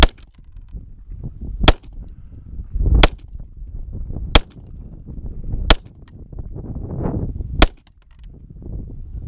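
A Daniel H9 pistol fires Federal ammunition at a range, five sharp separate shots spaced a second or two apart, with faint shuffling and handling noise between them.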